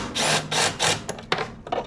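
A wrench works a nut off a hard-to-reach bolt on a Toro Recycler lawn mower, giving three broad scraping ratchet strokes and then a few short metallic clicks and knocks, close up and with no talk.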